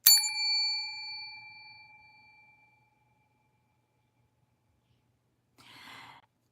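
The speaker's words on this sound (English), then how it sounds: "I buy myself a bell." A small cheap Dollar Tree bell is struck once, giving a bright clear ding that rings out and fades over a couple of seconds, followed by silence and then a soft breathy sigh.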